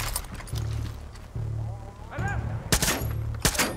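Gunfire in the video game Far Cry 6, a few sharp close shots near the end following a steady engine-like hum and a brief whistle.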